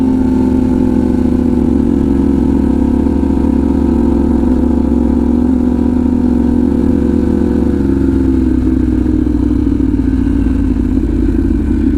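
A Pan America motorcycle fitted with a stealth exhaust running loud and close, a steady deep engine drone with a harsh edge that shifts slightly in tone partway through, no talk.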